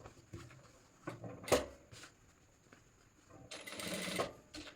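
A sewing machine runs in short bursts while stitching formal pants, with quiet gaps between the runs and one longer whirring stretch near the end.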